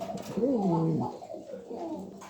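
Spanish pouter pigeons, a pair nesting with the hen sitting on eggs, give a close, rolling coo of low warbling notes, followed by a few softer murmurs.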